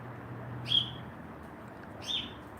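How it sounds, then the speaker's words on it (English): A small bird gives two short, high chirps about a second and a half apart, fairly faint over a steady low background hum outdoors. "That little bird is funny."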